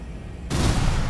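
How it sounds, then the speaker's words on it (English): An Armored Core 6 missile launcher fires a locked-on multi-missile volley, a sudden loud burst of launching rockets cutting in after a quieter mechanical hum and holding as a dense roar. "if you hold down the missile or whatever button is for your missile launcher, you can lock onto multiple targets and it divides the missiles up for you"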